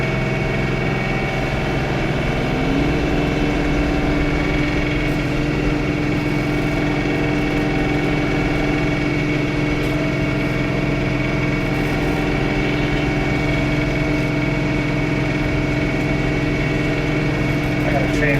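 A John Deere 3 Series compact tractor with a snowblower attached, its engine running at a steady, loud, continuous hum that never lets up.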